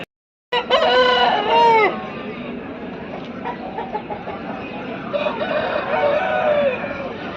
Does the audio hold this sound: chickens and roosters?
yes